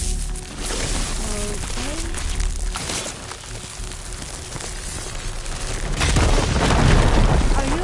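A firegleam explosion in Horizon Forbidden West bursts with a heavy, rumbling boom that swells and lingers amid dense noise and faint distant calls.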